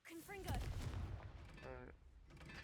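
A Confringo blast spell cast in a video game, a loud booming burst with a rumbling tail that runs through most of the clip and carries tonal game effects over it.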